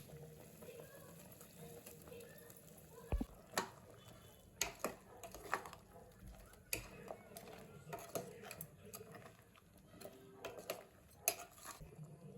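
A spoon stirs ground masala into goat head curry in a cooking pot, giving scattered metallic clinks and scrapes over a soft bubbling background, with quiet talk at times.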